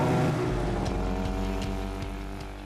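A DKW Super Sport 600 motorcycle's 600 cc two-stroke engine runs with a steady, low chattering drone, close and even, with a few sharp ticks and a slight fade toward the end.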